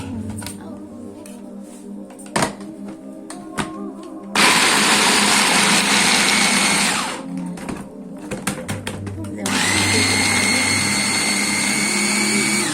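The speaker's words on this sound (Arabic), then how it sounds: "هضرب بقى كل الفول وارجع لكم تاني" Food processor grinding soaked fava beans for falafel, a loud whirring motor running in two bursts with a short pause between, after scattered clinks and kitchen handling noises.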